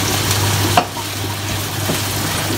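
Sliced hot dog and onion stir-fry in a pan with a steady, loud sizzle and a faint clatter of stirring running throughout, no voices over it.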